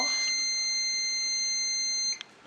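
A fire alarm with a 792 horn blares a loud, steady electronic tone for about two seconds, then cuts off abruptly, leaving a faint click and quiet room noise.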